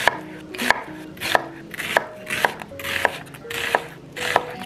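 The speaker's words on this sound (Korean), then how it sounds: "양파는 좀 두껍게 잘라주려고요" A knife chops an onion into thick slices for boiled pork, with about nine crisp, evenly spaced cuts against a board, close up and clear, and no talking.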